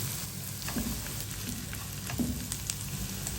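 Sliced onion and garlic sizzle in hot oil in a pan, a soft, steady crackle with a few stirring scrapes and no voices.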